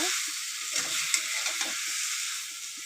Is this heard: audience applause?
no